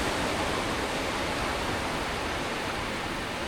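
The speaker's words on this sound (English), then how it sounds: "you can see waves are breaking all the way across" Ocean waves break across a boat ramp entrance at half tide in a moderate swell, a loud, steady roar of surf and wash with no gaps or distinct individual crashes.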